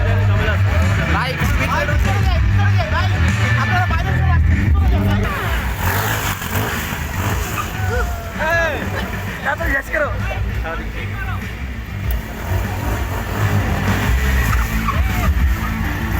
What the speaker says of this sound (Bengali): পাওয়ারফুল বাইকের পাওয়ারফুল ভিডিও।